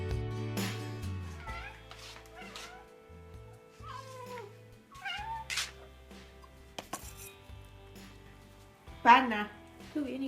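Several house cats meow repeatedly at feeding time in a home kitchen, near and fairly loud, with dish and food-prep clatter and people talking in between.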